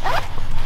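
Zipper of a motorcycle textile jacket being pulled, a steady rasping zip lasting under a second, close and fairly loud with a low hum beneath.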